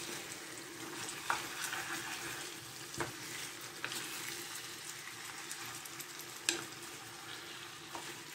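Onions frying for a meat tagine, a quiet steady sizzle with scattered stirring scrapes and small clinks, close-up and without speech.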